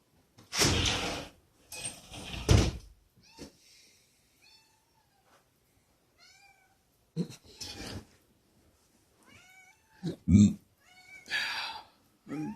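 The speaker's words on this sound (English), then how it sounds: "Cat wants in, back in." A cat meowing to be let back inside, several drawn-out plaintive meows spaced across the clip, close and fairly clear, with thuds like a door and a person talking in between.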